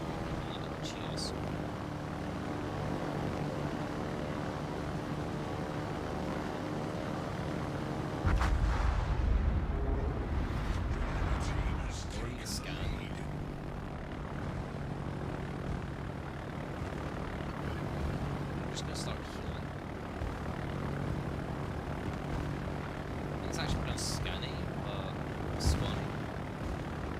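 Propeller aircraft engine drone from the World of Warships naval combat game, a steady mechanical hum running throughout with a louder burst of gunfire or explosion rumble partway in and scattered sharp game sound effects over it.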